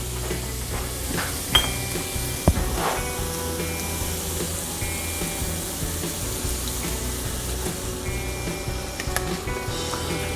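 White wine splashing into a hot cast iron skillet to deglaze it, giving a steady sizzle and hiss with a couple of light clinks of a utensil against the pan.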